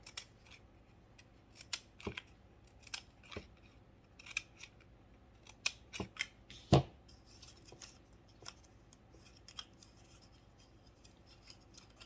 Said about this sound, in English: cut this so it'll fold down in there.